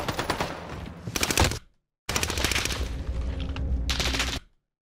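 Gunfire in a first-person shooter game comes as rapid automatic bursts. One burst lasts about a second and a half, then a brief silence, then a longer sustained volley of shots, loud and close.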